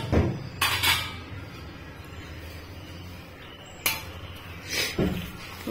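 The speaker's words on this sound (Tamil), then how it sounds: "இப்போ இதை நல்லா கலந்துக்கலாம்" Spoon scraping and clinking against a bowl while mixing curd rice: a few scattered clanks and scrapes over a quiet kitchen background.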